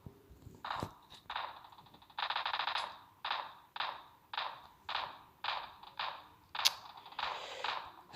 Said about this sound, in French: Ça tire fort.